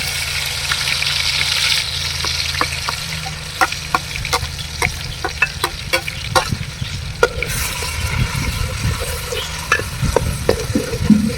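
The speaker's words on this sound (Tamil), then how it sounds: "வெங்காயம் நல்லா ஃப்ரை ஆகிடுச்சு, அரைச்ச வெங்காயம்." Ground onion paste, about 300 grams, fries in a pan for beef biryani. It gives a steady close sizzle broken by frequent sharp clinks of a spoon stirring against the pan, with no voices.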